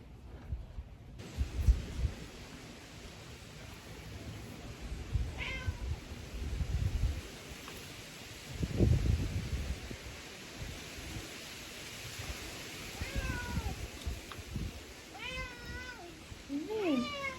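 A cat meows several times, close by, rising and falling calls over soft rustling and low background noise.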